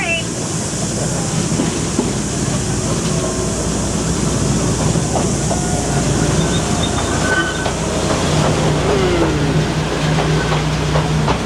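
A Driving Creek Railway train in Coromandel, New Zealand, runs steadily on its rails with a loud continuous rumble, rhythmic wheel clatter and occasional faint squeals, heard from on board.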